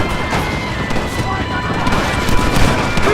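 Bursts of gunfire in a Red Dead Redemption shootout, rapid cracking shots layered thick and loud with shouting voices mixed into the chaos.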